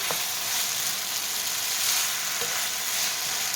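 Chicken fried rice with soy sauce sizzling in a pan on high heat, a steady, loud hiss and crackle close by, continuous with no pauses and no voices.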